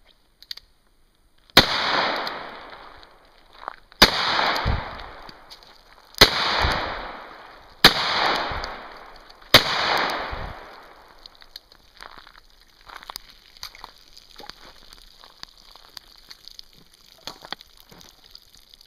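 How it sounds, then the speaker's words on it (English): Five sharp, loud pistol shots from a Bear Arms Beretta Laramie, fired after drawing from a holster at close range, each ringing out with a short decaying echo, spaced about two seconds apart and followed by quieter handling noise. "I'm going to holster the weapon, and I'm going to draw and fire."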